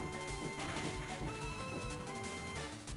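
Surf attack in Pokémon LeafGreen, a dense, continuous rushing wash of crashing water noise with a steady tone running through it, loud and sustained throughout.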